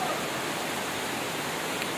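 Floodwater mixed with overflowing drain water pours along a submerged street, making a steady, dense rushing hiss that stays even and close throughout, with no pauses or distinct splashes and no voices.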